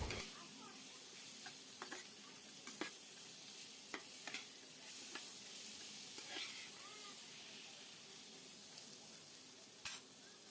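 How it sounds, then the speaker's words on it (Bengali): Fish heads sautéed with spices in a pan for a mung dal dish, giving a steady close sizzle with scattered scraping stir clicks, alone with no talk. "মুড়োগুলো দিয়েও ভালো করে মশলার সাথে কষিয়ে নেব।"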